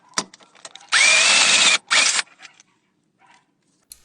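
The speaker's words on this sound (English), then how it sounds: "It's way much easier to get a power tool to get it out if yours is not rusted." A power tool with a 14mm deep socket spins out water pump bolts on a 2GR-FE V6, two loud close whirring bursts, one long and one short, separated by a brief pause.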